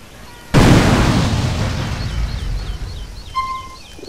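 A single hand grenade in GTA San Andreas detonates with a loud, close boom that rolls off into a long decaying rumble, followed by faint high beeping tones.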